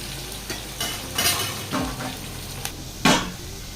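Onions and green chillies fry in a pan, a steady sizzle broken by several scraping strokes of a spoon stirring them, close and fairly loud, with no talking.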